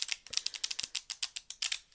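Quick, crisp flicking and riffling of tarot cards being shuffled in a steady rhythm of short snaps, close by and fairly quiet, with no talking.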